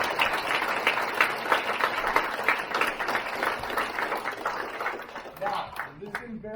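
Applause for first-degree black belts at an ATA martial arts ceremony, a steady indoor crowd clapping that fades toward the end as a voice begins speaking.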